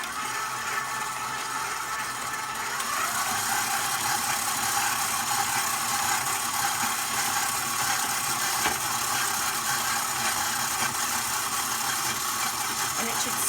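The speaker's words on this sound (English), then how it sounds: "If you have a very powerful mixer, you don't want to put it all the way up to high speed." A powerful electric stand mixer kneading bread dough at medium speed gives a steady mechanical whir and churning throughout, quiet and continuous.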